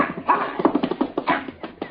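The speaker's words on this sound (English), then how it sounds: "Look at that doggy, Paul." A dog whimpers and yelps in short, high, plaintive bursts, close by, with a few brief whines strung together.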